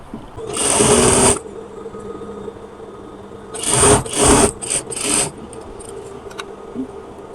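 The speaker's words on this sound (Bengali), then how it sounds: "সর্বপ্রথম আমরা হিপ পর্যন্ত সেলাই দিয়ে নেব" A sewing machine runs in bursts while stitching the side seam of a kameez, with one long run followed by several shorter, loud whirring runs separated by quiet pauses.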